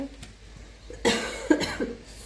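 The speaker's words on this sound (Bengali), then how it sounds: "কাশিও হয়েছে অনেক" Several sharp coughs burst out close by in quick succession, loud against a quiet indoor background.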